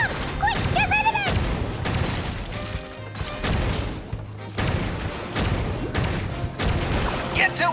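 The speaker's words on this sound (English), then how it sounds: "Ah! It's a bomb!" A bomb goes off in the video game Genshin Impact, with repeated deep booms and bursts amid game music and effects, mixed with brief exclaiming voices.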